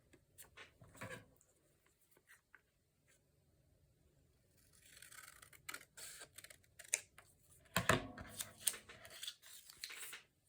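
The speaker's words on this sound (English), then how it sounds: "I'm going to cut that." Paper is cut by hand for a junk journal, with scattered crisp snips and rustling handling noises close up, quiet at first and then denser, louder bursts near the end.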